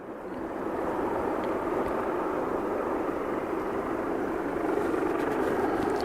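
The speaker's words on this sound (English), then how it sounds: "BAE Jetstream 41. Okay. That's a bigger one than I thought it was going to be." A BAE Jetstream 41 turboprop at Aberdeen Airport, a steady broad engine roar rising in over the first second and holding, heard from a distance outdoors.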